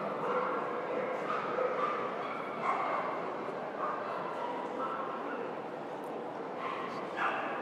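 A small dog yaps and whimpers in a large show ring at a dog show, repeated barks mixed into steady crowd and hall noise.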